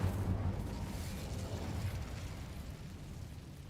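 In a Harry Potter video game, an Incendio fire spell goes off with a whooshing burst of flame that fades gradually over a few seconds, with no speech.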